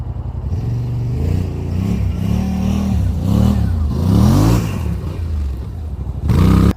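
A Yamaha Wolverine X2 1000 side-by-side, lifted and on 32-inch tires, strains up a climb with its engine loud and close, the revs rising and sagging repeatedly, then surging again at the end.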